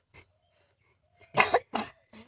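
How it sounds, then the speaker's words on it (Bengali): A small child coughs after eating a homegrown strawberry, two sharp close coughs in quick succession preceded by faint throat sounds, with quiet pauses around them. "কাশি লাগছে আবার, খাও।"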